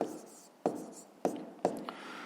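Pen or chalk strokes writing numbers during a 5th grade math lesson: three or four short, distinct scratching bursts spaced apart, close and fairly clear, with no talk over them.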